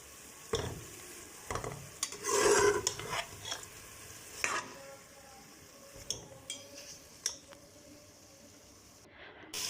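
Pieces of meat for namkeen gosht frying in a pan, with a soft sizzle broken by stirring scrapes and clinks of a utensil against the pan, close up and fairly quiet.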